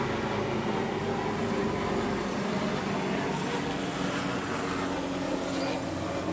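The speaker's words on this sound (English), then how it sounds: "I'm gonna let this helicopter go real quick." A helicopter flies overhead, its steady broadband rotor and engine roar holding loud and even throughout with no talking.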